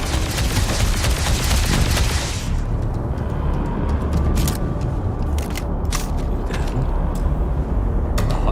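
Automatic gunfire rattles in a sci-fi shooter, a dense loud burst for the first couple of seconds, then scattered sharp shots and clanks over a rumbling background.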